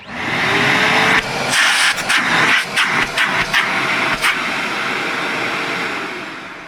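A Bosch UniversalVac 15 vacuum cleaner runs with a loud, steady whooshing roar and motor whine, interrupted by several brief bumps and knocks, then winds down toward the end.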